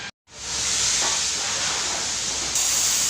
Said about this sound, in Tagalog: tara spray natin